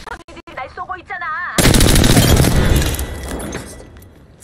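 Sustained video game gunfire erupts loud and dense after a short stretch of game voice, a rapid rolling burst of shots with booming impacts that slowly tapers off.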